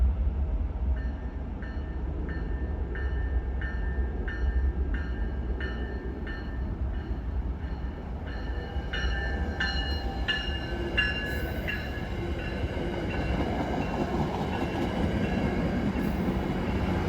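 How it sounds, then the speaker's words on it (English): A VRE commuter train rolls past on the Long Bridge in Washington DC, a steady heavy rumble with rhythmic wheel clacks and rising metallic squeals as the cars go by, no voices. "And here's another VRE train."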